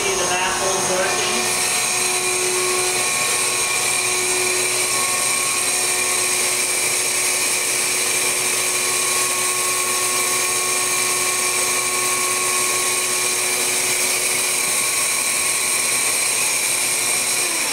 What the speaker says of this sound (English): turn on our magic shop vac